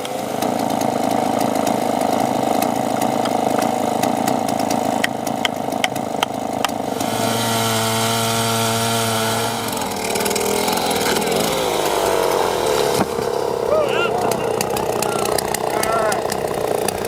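Chainsaw with a 4-foot bar driving at low RPM through a massive oak root ball, a steady loud engine drone that bogs into a deeper laboring tone under load, then revs back up, continuous throughout.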